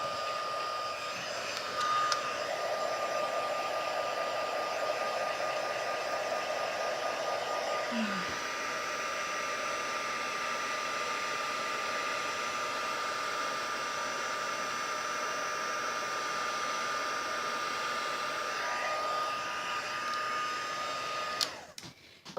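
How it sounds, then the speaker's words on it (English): A heat gun blows hot air in one long, steady whooshing roar while stamped stained-glass leaf crafting is underway, with a slight pitch shift midway, before it cuts off near the end. "then I'm going to take my heat gun again. Same thing, make sure you heat it up a little bit"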